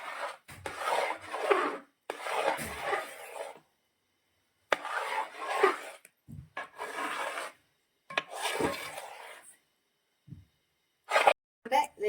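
A thick jackfruit and jaggery mixture is stirred and scraped in a pan in separate bursts of rasping strokes with short silent gaps between them.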